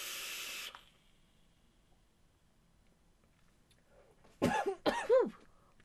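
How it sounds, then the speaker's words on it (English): A long exhaled hiss of e-cigarette vapor, quiet pause, then a few sharp coughs close up. "Making me cough there"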